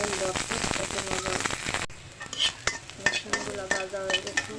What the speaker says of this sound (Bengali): রসুন দিব, রসুন ভেজে নেব।